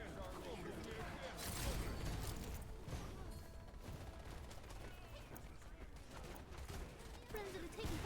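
Rapid bursts of gunfire crackle through a firefight in the video game Wild Assault, with mechanical clatter and distant shots layered under radio-style voice callouts throughout.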